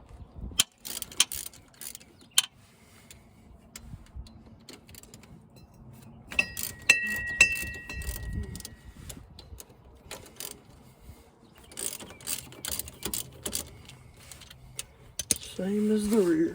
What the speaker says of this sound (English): So let's go ahead and get these bolts out.